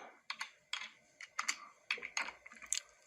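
Keys tapped on a computer keyboard while entering a short line of Java code, a quiet, close series of light clicks in uneven bursts and short pauses.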